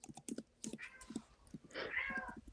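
A cat meows from behind a closed door, repeated muffled cries rising over a rapid clatter of computer keyboard typing nearby.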